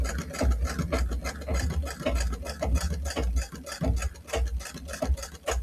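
A sewing machine stitches corset seams with a rapid, steady mechanical chatter, close and fairly loud, running through in even bursts with brief slowdowns.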